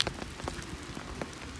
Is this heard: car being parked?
no